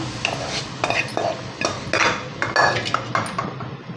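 Cooked fenugreek and potato curry is scraped from the pan into another vessel, with repeated metal clinks and scrapes of a spoon against cookware at close range.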